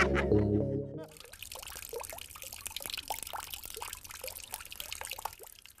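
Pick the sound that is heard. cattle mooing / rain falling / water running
water running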